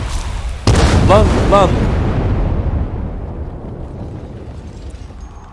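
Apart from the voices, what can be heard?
land mine explosions, from video game Dying Light 2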